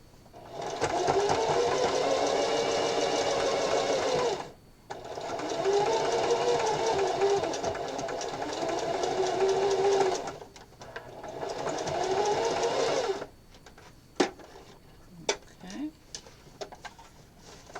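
A sewing machine runs a zigzag stitch on a fabric hair scrunchie in three long, steady bursts separated by short pauses, close and loud, followed by a few faint clicks and handling sounds near the end.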